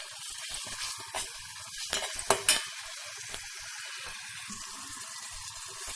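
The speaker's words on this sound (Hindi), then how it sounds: "घी और अदरक मेल्ट होना शुरू हो गया है।" Ginger sizzles in ghee with jaggery in a pan, a soft crackle with a few brief stirring scrapes, close and fairly quiet, with no voices.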